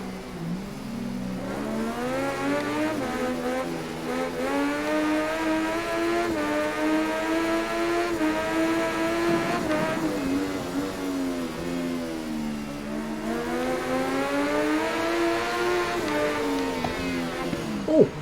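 Racing motorcycle engine in the Ride 3 video game on the Nordschleife, a steady whining exhaust note rising and falling through gear changes and throttle swells, fairly loud and continuous.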